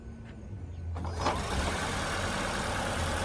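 A 2017 Ford C-Max with a newly replaced HF35 transmission cranks and starts, then settles into a quiet, steady idle heard close up in a workshop.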